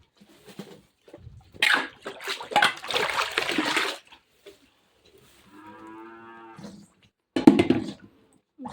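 Water poured and splashed into a cow's feed on a hot day, with bursts of splashing at close range, then a long, loud cow moo and a final splash.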